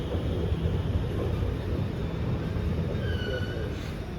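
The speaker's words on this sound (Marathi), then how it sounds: "तर आता आली आहे मेट्रो" A metro train pulls into a Singapore station with a steady low rumble and a rising hum of the approaching carriages, heard close and continuous while a person speaks over it.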